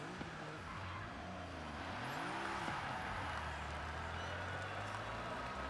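Jaguar XJ220 S TWR, a turbocharged supercar, accelerating hard in Forza Horizon 5, with a steady loud engine drone and rising pitch sweeps that sit close and fill the whole stretch with no break.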